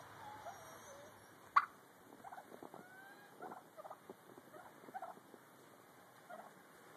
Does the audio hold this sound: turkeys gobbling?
yes